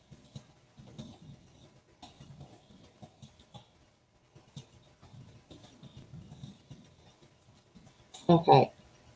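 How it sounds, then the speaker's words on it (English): Keyboard typing while brainstorming a writing project gives soft, irregular clusters of clicks and taps, close but quiet, with a louder burst of movement near the end. "That's what you hear me typing."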